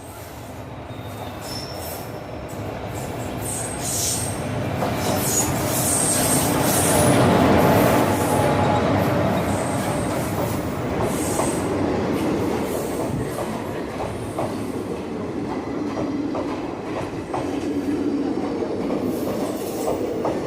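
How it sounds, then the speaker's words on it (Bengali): A train rolls into Bolpur station, wheels squealing and rattling over the rails in a loud, sustained rumble that swells and holds steady for the whole stretch, with no talk. "এই যে একটা ট্রেন ঢুকছে"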